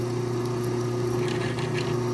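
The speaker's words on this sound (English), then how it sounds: "And then we're going to drill right through." Stubby short drill bit boring through oiled metal while making a spiral tool, a steady close motor whine and grinding hum that holds without a break.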